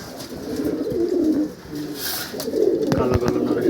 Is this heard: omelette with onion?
no